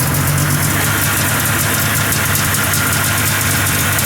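A 503 Safari engine with carburetors running rough after starting, a loud, continuous low idle with rapid knocking pulses and vibration, steady and close with no voices.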